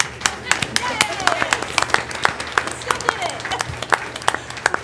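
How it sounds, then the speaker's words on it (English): An audience at a school board meeting claps steadily for several seconds, a moderate scatter of hand claps without cheering. "Well, let's clap anyway."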